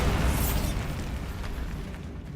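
A Bombarda blast spell in Hogwarts Legacy booms as a dense, rumbling explosion that stays loud and sustained for a couple of seconds, with debris-like crackle throughout.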